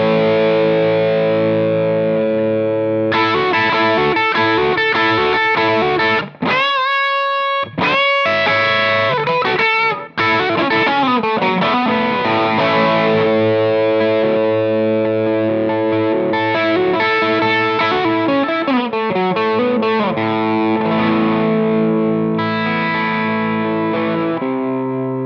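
An overdriven Tokai electric guitar plays chords and riffs through a Fender amp with the pedal's drive turned down, giving a milder, more dynamic crunch. It plays continuously for the whole passage with a few brief stops.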